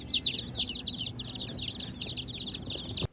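Dense, continuous high-pitched peeping from 50 day-old Rhode Island Red chicks in a box, rapid overlapping cheeps with a faint low hum underneath.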